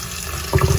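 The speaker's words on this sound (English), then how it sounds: "in some cold water, you're gonna rinse these beans" Running tap water pours into a bowl as dried beans are rinsed in cold water, a steady hiss that swells into louder splashing partway through.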